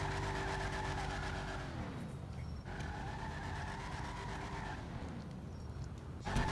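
A Toreador car in GTA 5 holds a long, loud burnout, engine screaming at high revs with tires squealing steadily, the pitch dipping and rising again as the spin continues up close.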